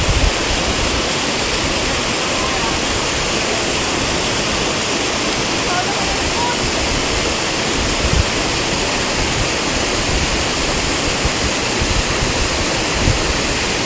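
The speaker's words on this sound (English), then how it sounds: "A waterfall in reverse." A loud, continuous roar of a waterfall at Puerto Galera fills the scene, a steady broadband rush with no pauses.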